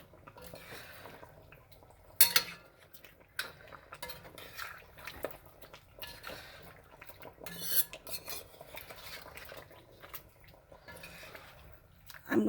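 Goat curry with potatoes, salt and black pepper is stirred in a pot, with soft scraping and wet swishing under a low background and occasional louder clinks of a spoon against the pot.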